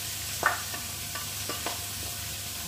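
Ground pork sautéing with garlic and onion in a pan, a continuous low sizzle broken by a few soft scraping stirs, fairly close and moderately quiet, with no talking.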